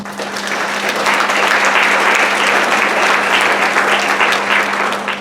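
Sustained applause from a large audience at a community race relations summit in Seaside, California, steady and loud throughout, with no talking over it.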